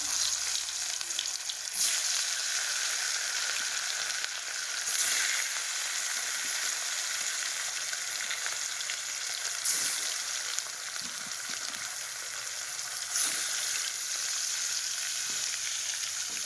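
Fish frying in a pan, browning to a reddish crisp, gives a steady, dense sizzle for the whole stretch, with occasional louder crackling bursts and faint stirring scrapes, no voices.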